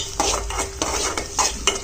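A spoon scrapes and clinks loudly against a pan in several quick strokes as a small tempering fries with a low, steady sizzle underneath, close by in a cramped kitchen.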